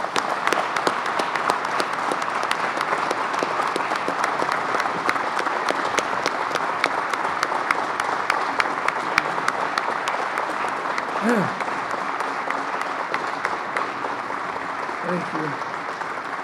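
Sustained applause from a press conference audience for a coach at Syracuse University, dense, even clapping throughout, with a brief spoken voice near the end.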